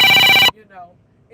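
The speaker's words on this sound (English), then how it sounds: "that was my phone ringing" A phone rings loudly for half a second with a bright, trilling electronic tone, then stops abruptly, followed by faint noise.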